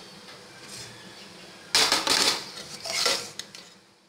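Dishes clatter and scrape after a quiet stretch as roasted semolina is moved to a separate plate, a few bursts of metal and ceramic clinking close by, with no speech.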